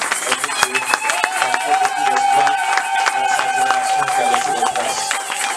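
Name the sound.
congregation cheering and clapping for the Lord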